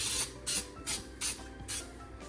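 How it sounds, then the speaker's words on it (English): Non-stick cooking spray is misted onto a loaf pan in five short, hissing bursts at a steady rhythm, close and loud with quiet gaps between. "non-stick spray."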